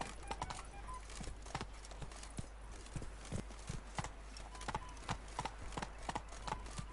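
Roach the horse gallops in The Witcher 3, a steady run of hoof clip-clops throughout with occasional brief voices in the background.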